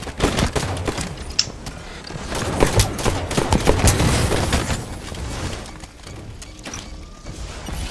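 Gunfire in a video game crackles in rapid bursts and scattered single shots, loud and close, with no talking.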